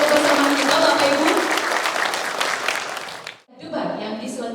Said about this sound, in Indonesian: Boleh kita tepuk tangan yang paling meriah untuk mengawali kebersamaan kita, Bapak Ibu.